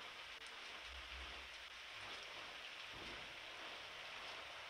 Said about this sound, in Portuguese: Tempestade acontecendo aqui